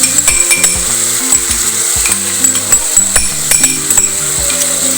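Chicken fries in oil as tomato puree goes into the pan, producing a loud sizzle broken by repeated clinks and scrapes of a utensil against the cookware, with no speech.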